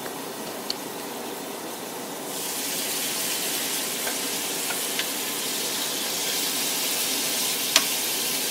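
Steaks sizzling loudly in a hot pan, a steady broadband hiss that swells after a couple of seconds as they are flipped with tongs, with a few faint clicks of metal on the pan and no talking.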